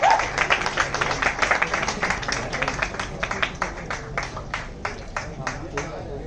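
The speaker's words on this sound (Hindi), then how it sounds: "प्लीज जोरदार तालियां बजा ladies and gentleman for Nidhi ma'am" An audience at a Miss India Glam audition claps in a dense burst of applause that gradually thins into scattered individual claps, with people talking under it.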